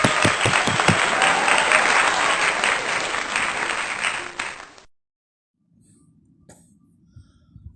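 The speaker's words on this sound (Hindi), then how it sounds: "तालियां।" Applause from a church congregation at an online Sunday worship service after a sermon, steady, dense clapping that holds for several seconds, then fades out abruptly into near silence with a faint cough.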